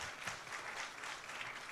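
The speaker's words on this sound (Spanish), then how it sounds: "También un aplauso para el doctor," Faint, steady audience applause in a conference hall during a Mexican forum on secularism, with many hands clapping evenly and no voices over it.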